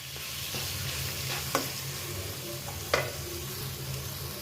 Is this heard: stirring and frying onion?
yes